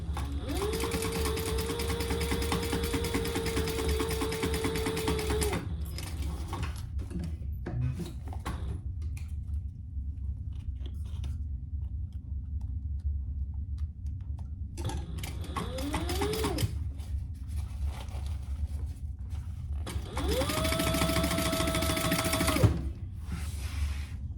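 A sewing machine top-stitches a zippered pouch in three bursts of rapid mechanical whirring, separated by quiet pauses with faint handling sounds.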